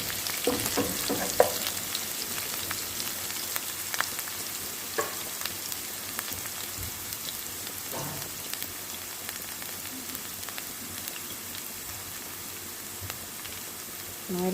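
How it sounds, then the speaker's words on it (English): Aromatics such as scallion frying in oil in a pan for Jamaican ackee and saltfish, a steady soft sizzle with occasional light crackles and stirring clicks, fairly quiet and without speech. "Release the aromatics in the pan,"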